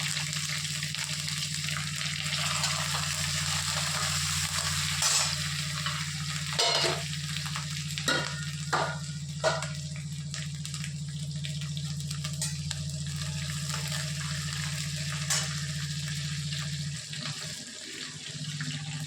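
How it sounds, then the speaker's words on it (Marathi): Green chilies, garlic and curry leaves sauté in oil for a curd kadhi, giving a steady close sizzle over a low hum, with a few stirring clinks and scrapes, no talk. "कढीपत्ता छान कसा परतडून न्यायचा आहे"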